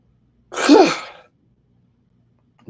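A single loud sneeze bursts out close by, lasting under a second, followed by silence.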